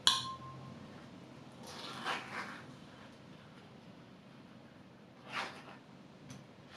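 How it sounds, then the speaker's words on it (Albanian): Spoon scooping soft avocado flesh out of the skin for guacamole, a few faint scraping and clinking touches spread across a quiet background. "e nxjerrim pjesën e tullit brenda, e nxjerrim me lugë"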